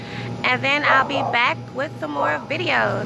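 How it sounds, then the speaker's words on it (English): A dog barks and yips in repeated bursts close by, heard over a person talking steadily throughout. "Y'all, please excuse that dog."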